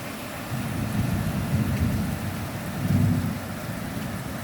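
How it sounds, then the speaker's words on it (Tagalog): Heavy rain pours steadily on a nipa hut, a dense low roar with surges in intensity, close and loud, no voices. "ang lakas ng ulan"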